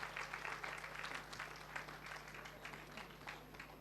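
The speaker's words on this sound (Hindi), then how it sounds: "जोर से जरा इनके लिए तालियां बजाइए।" Faint, distant clapping from the audience at a spiritual talk, steady applause lasting the whole stretch over a constant low electrical hum.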